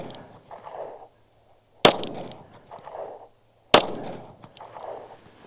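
Two sharp gunshots from a first-generation Taurus PT-111 Millennium Pro 9mm pistol, spaced about two seconds apart, with a jam where the slide fails to go into battery. Quieter rustling and handling noises fill the gaps between the shots.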